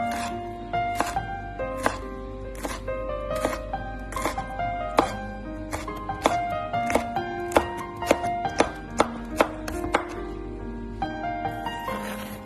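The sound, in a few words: knife chopping red pepper finely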